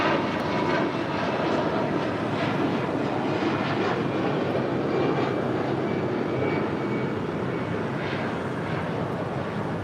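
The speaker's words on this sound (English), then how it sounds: "Airlines Flight 2546 heading to Mexico City in an A319" American Airlines A319 departing for Mexico City, a steady, moderately loud jet engine rumble and hiss that persists evenly throughout, with no talking.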